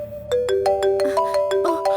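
A mobile phone ringtone for an incoming call, a bright electronic melody of short repeated tones with a clear rhythmic pattern, loud and alone.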